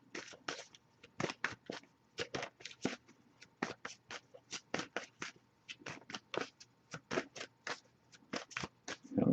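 Oracle deck cards shuffled by hand at close range, making a quick run of crisp riffling bursts in a steady, uneven rhythm with no voices.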